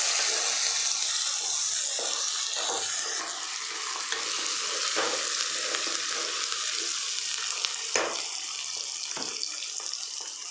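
Three large chopped onions sauté in a pan, a dense steady sizzle with occasional stirring scrapes and clinks, close and continuous for about ten seconds with no one speaking.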